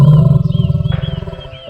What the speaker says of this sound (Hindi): तभी शेर की दहाड़ने की आवाज आती है।